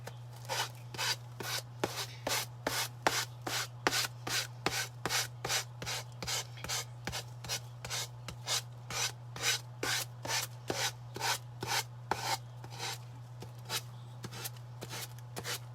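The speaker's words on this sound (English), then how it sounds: "I'm going to take my sanding block, which is up here, and I'm going to just go around the edges." A sanding block rasps back and forth along the edges of a wooden DIY project, about two dozen even, rhythmic strokes close up, over a steady low hum, with no speech.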